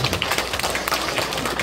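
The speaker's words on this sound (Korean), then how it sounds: "다시 한번 우리 스님께 뜨거운 박수 한번 주시기" An audience of elderly people claps for a monk at a senior culture gathering, a dense patter of many hands close by, continuous and fairly loud throughout.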